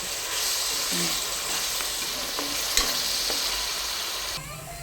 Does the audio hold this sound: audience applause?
no